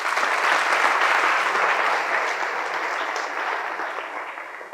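A large audience at a career counselling seminar breaks into loud, continuous applause, a thick even roar of clapping that slowly tapers toward the end, with no talking.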